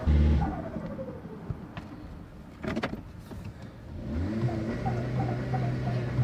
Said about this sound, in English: Spooling up my turbo.